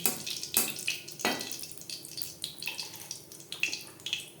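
Cumin seeds fry in refined oil with a fluctuating crackle and hiss, punctuated by a few sharp spatters and utensil knocks, fairly quiet and close.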